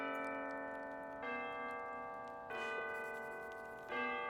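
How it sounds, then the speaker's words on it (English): Distant bells ring out in a video game New Year celebration, sustained tolling tones that swell at three points with fresh strikes, steady and soft with no talking. "Soft sounds of the distant bells,"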